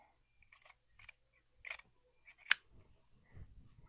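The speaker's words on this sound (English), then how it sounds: "I'm just going to go in and cut it" Scissors cut through fabric for an upcycled shacket, several separate crisp snips spaced apart, close and fairly quiet against a silent background.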